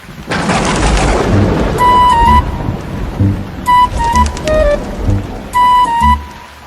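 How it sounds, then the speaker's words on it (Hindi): Steady heavy rain pours throughout, with deep rolling thunder rumbling underneath; a few bright chiming tones ring out intermittently over the storm. "कई दिनों से लगातार बारिश हो रही थी।"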